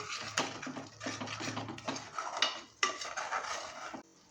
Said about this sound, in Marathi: 1 मिनिट तरी मसाला आपल्याला व्यवस्थित परतून घ्यायचा